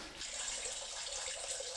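Flood water streaming out of wall sockets and skirting boards in a flooded apartment after a downpour, a continuous close hiss and gush of running water with no talk.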